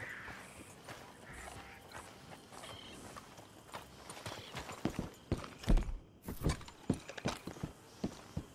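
Horses' hooves clip-clop on the ground in the Western game Red Dead Redemption 2, a steady walking rhythm that grows louder and more distinct near the end, with no talking.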